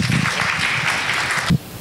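An audience at a humanist community forum breaks into applause to welcome a speaker, a dense crowd clatter filling the room for about a second and a half before cutting off sharply.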